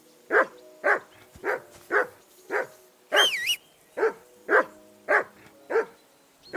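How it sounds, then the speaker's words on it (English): A dog in Kingdom Come: Deliverance 2 barks steadily and close by, around ten regular barks with a brief high whine breaking in midway. "I assume you can hear that damn dog of to yours."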